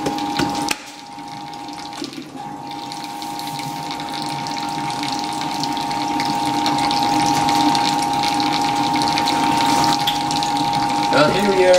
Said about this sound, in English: Well, here we are, draining again.